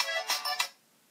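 A phone ringtone chimes for an incoming call, a short bright burst of three quick tones close by, then quiet.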